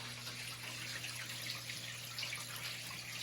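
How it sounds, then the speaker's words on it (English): Water drains back into an indoor hydroponic grow system's reservoir, a steady close trickle and splash of running water over a constant low pump hum, with no talk. "then the water will start to drain back inside of your reservoir down here"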